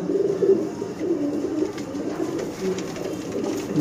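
A black-faced breeder pigeon shown at close range, giving repeated low throaty coos over a murmuring background, moderately loud and with no talking.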